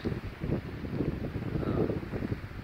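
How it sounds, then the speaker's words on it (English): Strong wind gusting across an exposed mountaintop on the Appalachian Trail in October, a steady loud rumbling roar buffeting the microphone throughout with no voices. "there was a 30 or 40 mile an hour wind. It's still blowing. You can probably hear it"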